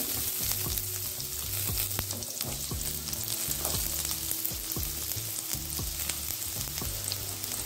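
Onion and chopped garlic sizzle and fry steadily in hot oil in a pan, with a constant crackling hiss throughout and occasional stirring and utensil clatter.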